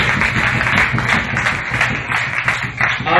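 A church congregation claps and cheers loudly together during a Saturday service, a dense and continuous burst of applause.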